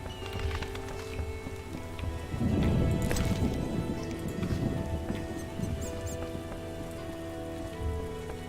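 Rain in The Witcher video game, a steady patter of drops on surfaces, with a denser burst part way through, soft and continuous with no talking.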